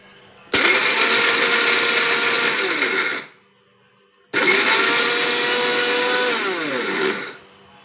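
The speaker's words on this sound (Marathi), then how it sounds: "आता ह्याच्यातली बुंदी जी आहे ती थोडी थोडी मिक्सरच्या भांड्यामध्ये टाकावी आणि हलक्या हातानेच फिरवावी" Mixer grinder pulsing boondi for motichoor modak in short bursts: two loud whirring runs of about three seconds each, separated by a brief pause, each winding down as the motor stops.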